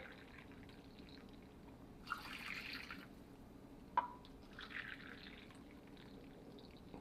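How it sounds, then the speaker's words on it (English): Three cups of hot boiling water poured into a pot of simmering Jamaican curry fish: two faint, short splashy pours separated by a small sharp clink, in a quiet kitchen. "Now 3 cups of hot boiling water."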